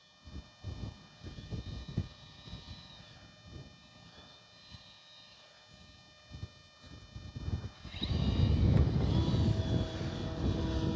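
HobbyZone Super Cub RC airplane flying on a windy day, a thin motor whine drifting overhead at moderate distance, then wind buffeting grows loud and rumbling near the end.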